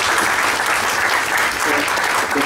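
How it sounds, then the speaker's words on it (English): Steady, dense applause from an audience at a meeting, continuous clapping at even loudness throughout with no pauses. "Let's give him another round of applause."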